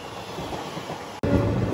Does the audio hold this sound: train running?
yes